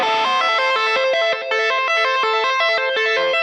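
Distorted electric guitar tapping with a chorus-like effect, played a bit faster: a loud, continuous run of quick, even notes cycling in a repeating pattern, with no speech.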